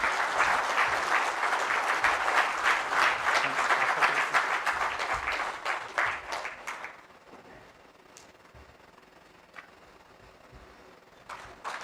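Audience applauding at an administrative service association event in Ranchi, a burst of clapping lasting several seconds that stops abruptly, followed by a few scattered claps in a quiet room.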